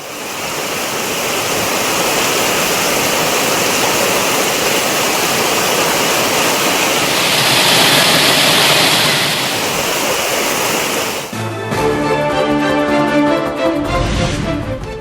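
Courtallam falls pours down in a loud, constant, roaring rush of water that fills the scene without a break, until tonal music abruptly cuts in near the end.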